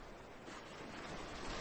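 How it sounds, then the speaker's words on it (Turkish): Stormy ocean waves in a children's story surge as a steady, dense wash of surf and wind, faint and continuous with no voices over it. "Okyanus birden öfkeli ve vahşi oldu."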